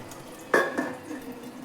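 A spoon scrapes and clinks against a pan while tomato paste is stirred and fried. Two quick metallic knocks come close together over a faint background sizzle.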